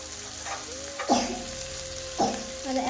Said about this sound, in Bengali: একটু কষিয়ে নেব হালকা আঁচে।